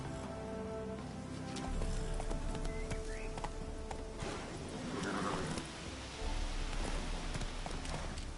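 Horse hooves clip-clop steadily through rain in The Witcher 3, a close, even trotting rhythm over a soft wash of rainfall, with a brief shift in the ambience partway through.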